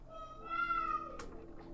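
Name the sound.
cat meowing in video game Some Distant Memory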